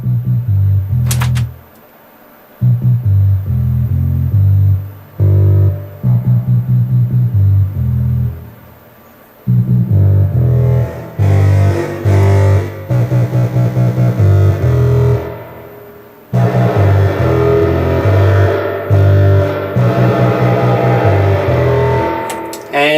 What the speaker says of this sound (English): bit of spring reverb